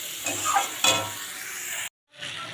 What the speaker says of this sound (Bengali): এটা আমি একটু ভালো করে মশলাটা দিয়ে কষিয়ে নেবো